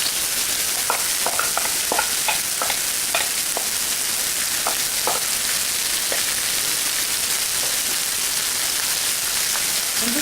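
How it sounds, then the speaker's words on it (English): Bean sprouts stir-frying in hot oil for a Chinese egg roll filling, a steady broadband sizzle throughout with scattered sharper crackles and pops early on, close and continuous, no talking. "the oil is hot. We're going to cook the bean sprout for 3 minutes until"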